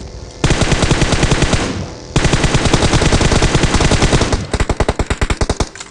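Rapid automatic gunfire in PUBG Mobile comes in loud, close bursts of sharp shots, with a short pause, then a long sustained burst and a final string of distinct evenly spaced rounds.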